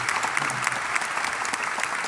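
A church congregation gives steady, dense applause at a Corpus Christi Thursday Mass led by a bishop, the clapping continuous and fairly loud for the whole stretch.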